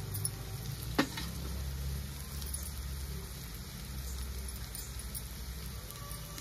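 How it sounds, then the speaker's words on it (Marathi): Ground spices including garam masala, cumin and coriander powder, salted, sautéing in a pan for palak paneer, giving a steady soft sizzle with a single sharp utensil tap near the start and no talking. "थोडासा परतून घ्यायचा आहे।"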